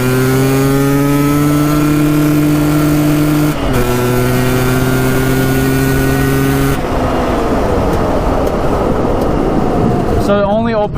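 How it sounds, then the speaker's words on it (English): A car engine revs hard at full throttle in first gear, a loud sustained drone rising in pitch, dipping briefly at a shift-like break before surging again into a rougher, noisier roar near the end. "Watch, okay, first gear. Full throttle."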